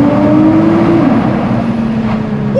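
A sports car engine, likely a Nissan GT-R, drones steadily and loudly in a tunnel, its pitch shifting slightly as it revs, with a reverberant, enclosed sound and no talking.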